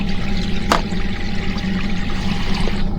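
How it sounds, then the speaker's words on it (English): Warm water pours steadily into a boat's wash basin, a continuous close splashing flow with a brief sharper splash near the start and no talking. "go ahead and fill your wash basin"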